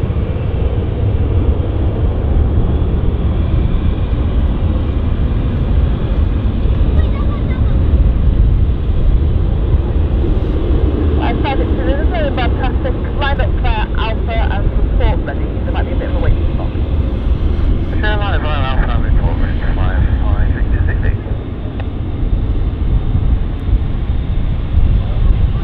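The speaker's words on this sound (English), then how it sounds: "See the wind pushing the Embraer there." Embraer airliner coming in to land in wind at London City Airport, a steady low engine rumble mixed with wind noise throughout, with people talking over it in the middle.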